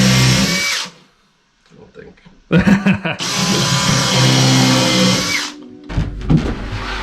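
A power drill whines loudly in two long bursts inside a boat's forepeak, separated by a brief pause with faint handling noise; a voice speaks briefly between them.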